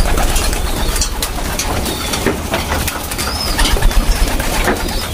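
Racing pigeons cooing in a loft after a hard race, soft repeated coos and rustling under steady broadband background noise, with occasional wing flaps and no talk.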